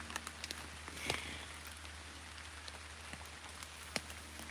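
Rain falls steadily through an Alaskan forest, a soft, even patter with scattered sharper drops ticking nearby and no voices.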